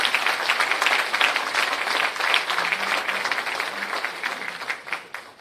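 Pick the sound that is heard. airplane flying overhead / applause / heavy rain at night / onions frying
applause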